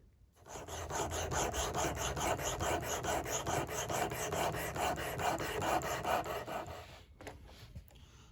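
A Simmons broadhead blade is ground steadily for sharpening, giving a continuous, even rasping scrape with a rapid repetitive texture for about seven seconds before it stops and a few faint handling sounds follow.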